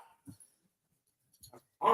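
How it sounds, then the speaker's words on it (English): Two mutts playing, with scattered soft yips, whimpers and scuffles spread over a quiet stretch, then a louder bark or growl at the end. "over the barking and playing of these two mutts"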